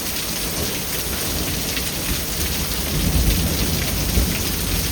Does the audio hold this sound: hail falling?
yes